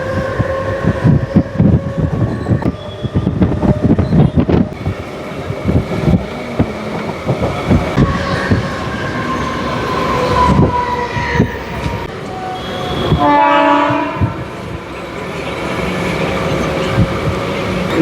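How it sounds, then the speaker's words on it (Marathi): A Mumbai local train pulls out of the ground-level Juinagar railway station on the Trans-Harbour line, wheels rumbling and clattering steadily, with a horn sounding near the end. "आता इथून सुद्धा आपली ट्रेन निघते."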